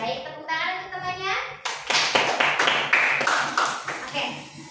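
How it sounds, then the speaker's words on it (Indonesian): Students in an Indonesian language classroom clap together after a pupil reads, a burst of close, uneven hand claps that starts abruptly, following a voice speaking just before. "Tepuk tangan untuk temannya."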